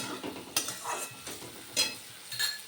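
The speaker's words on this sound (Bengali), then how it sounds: "চালগুলো আমি ভেজে নিলাম, একেবারে সুন্দর করে চাল ভেজে নিয়েছি।" Rice grains being dry-fried and stirred in a pan for a traditional Bengali muro ghonto, heard as close scraping strokes and light sizzle with a few sharper clinks of the spoon, no voices.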